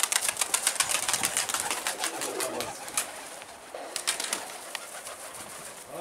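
Pigeons coo and flap their wings outdoors, with a dense burst of wing claps and fluttering that fades, then picks up again in a second shorter flurry.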